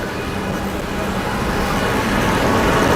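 Steady street traffic roars past near a district courthouse with a golden-domed building nearby, a continuous, fairly loud wash of vehicle noise with no clear individual passes.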